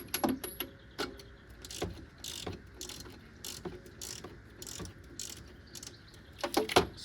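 A ratchet working a nut off a gear on a 12v Cummins engine, quick clicking pawl bursts and metallic clinks in short spaced groups, close and moderately quiet.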